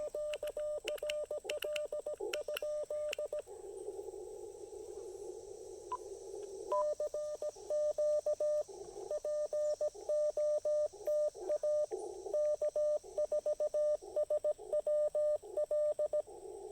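Steady Morse code tones key on and off in rapid dot-dash rhythm over a low-power portable radio station, with a hissy band of static between transmissions.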